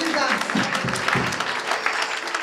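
A church congregation at a prayer and fasting service applauds and cheers, with a dense wash of clapping and mixed voices running steadily throughout.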